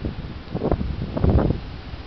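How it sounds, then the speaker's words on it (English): Powerful wind from a severe storm in Cambridge City, Indiana, rumbles and buffets continuously, swelling in heavier gusts midway through. "That's the wind."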